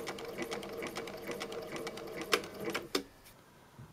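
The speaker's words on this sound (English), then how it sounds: "Here I want to show that with this low speed modification, it stops with the needle down." A Bernina 910 sewing machine modified for low speed stitches in a quick, even mechanical rattle, then slows with a couple of louder clunks and stops, close and fairly quiet.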